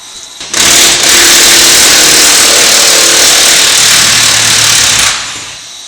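A power tool, likely an impact wrench, runs loud and steady for about four and a half seconds while taking out the last bolt of a John Deere CX20 bush hog gearbox, then cuts off.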